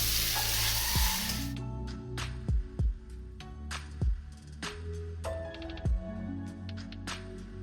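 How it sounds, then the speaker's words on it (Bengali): Boiled potatoes added to a pan with pointed gourd sizzle after a loud initial hiss, then several distinct clanks and scrapes of a spatula stirring them, close up and without speech. "সেদ্ধ করে রাখা আলু দিয়ে দিলাম, সব দিয়ে দিলাম। দেওয়ার পরে একটু নাড়াচাড়া করতে লাগলাম"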